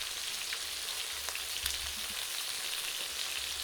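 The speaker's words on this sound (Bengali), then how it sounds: "এই মাছটা ভাজা আবার শিখে দিচ্ছি।" Pangas fish frying in a pan in a village kitchen, giving a steady, close hiss and crackle of hot oil that runs throughout with no voices.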